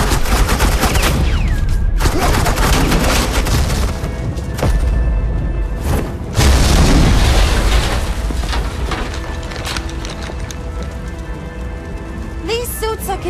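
Suppressing gunfire in Batman The Enemy Within, an Agent Quinn scene, fills the clip with dense, loud rattling bursts and booms that sustain throughout, easing slightly near the end.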